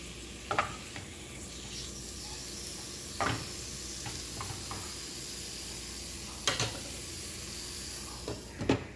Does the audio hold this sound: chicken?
yes